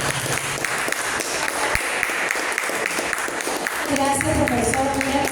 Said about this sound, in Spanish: Por favor, un fuerte aplauso para Liz Rojas